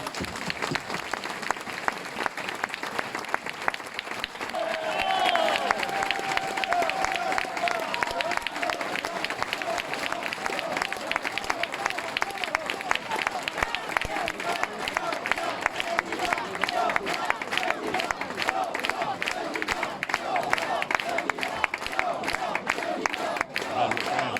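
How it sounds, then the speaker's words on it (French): A village audience applauds the volunteers in a long, sustained round of clapping with scattered cheers and shouts, while voices carry faintly underneath and a brief tone sounds partway through. "On peut applaudir tous les bénévoles qui ont permis ça."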